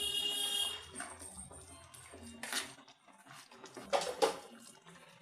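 A spoon mixes coriander leaves into egg curry in a pan, producing a few quiet scrapes and clinks against metal, spaced out over a faint, hushed background.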